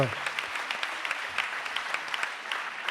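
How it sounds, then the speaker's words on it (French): Steady applause from a modest audience at a tourism conference workshop, individual claps audible within the brisk, even patter, lasting a few seconds. "orêt, Elvire de Chalut, Mélanie Delaplanche, on peut les applaudir évidemment tous les trois pour leur présence."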